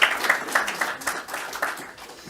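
An audience at a corporate talk on tax incentives in Santarém claps in a brief, fairly quiet burst of rapid, irregular hand claps.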